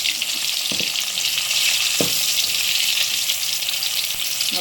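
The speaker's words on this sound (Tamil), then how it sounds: "நம்ம 2 துண்டாக போட்டு வறுத்து எடுத்துக்கலாம்." Pieces of fish shallow-frying in oil for a crispy fish fry give off a steady, loud, close sizzle that runs throughout, broken by a few soft clicks of a utensil.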